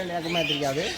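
A parrot gives a short, harsh squawk at close range, loud and brief, with voices in the background.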